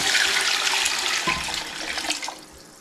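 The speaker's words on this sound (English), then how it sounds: "We're going to add our miso broth." Miso broth poured into a cooking pot gives a steady, close splashing gush of liquid that slowly eases off over a few seconds, with no voices over it.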